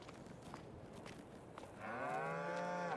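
Cattle with newborn calves in Farming Simulator 22, a soft game-farm ambience giving way to one long, clear, rising moo that carries to the end.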